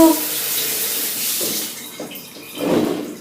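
Water splashed onto a made-up face to test waterproof makeup: a continuous loud splashing and pouring with a burst of heavier sloshing near the end, close by and with no speech.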